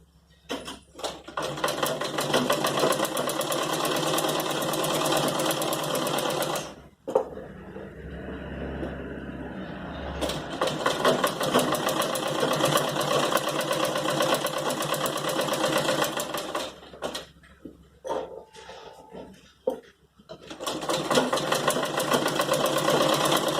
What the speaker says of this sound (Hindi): इसकी किनार किनार पर मैं नीचे की तरफ सिलाई लगाऊंगी।